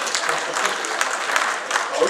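A short burst of steady applause from an audience at a French municipal election candidate-list presentation, continuous hand-clapping filling the whole moment at a moderate distance.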